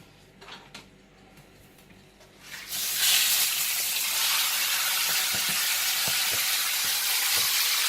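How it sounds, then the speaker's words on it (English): Chicken pieces for a gluten- and dairy-free butter chicken sear in a hot, steaming pan, a loud steady sizzle and hiss that bursts in after a few quiet seconds of faint kitchen clatter and continues unbroken. "now we're going to cook our chicken. Well, seal it. You can see the pan is steaming"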